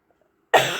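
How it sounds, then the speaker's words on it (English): A single sharp, close cough bursts out after a moment of near silence, loud and abrupt, then trails off into breathy noise. "Oh, excuse me, I'm still coughing a wee bit, but I'm much better."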